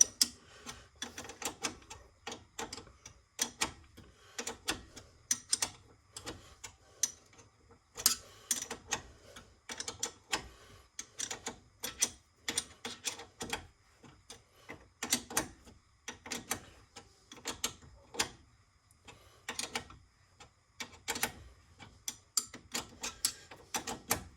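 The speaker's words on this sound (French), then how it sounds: "je ne vais pas serrer à fond. Avec la douille de 13." A hand ratchet with a 13 mm socket tightens rear brake caliper bolts on a Renault Mégane 2 CC, producing quiet, close bursts of quick clicking in repeated strokes with short pauses between.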